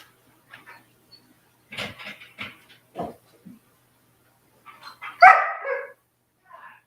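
A puppy shut behind a gate barks and yips in short scattered bursts, close and moderately loud, with quiet gaps between bursts and one sharper bark near the end.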